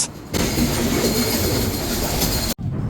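The Silk City Express rumbles steadily along the rails, a loud, continuous roar of wheels and carriages with faint squeal, cutting off abruptly near the end before resuming.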